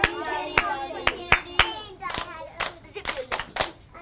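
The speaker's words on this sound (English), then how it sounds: "hand clapping patterns, which they need to repeat" A group of children claps a hand pattern in sharp, close bursts, several quick claps separated by short pauses, with a voice talking over the first half.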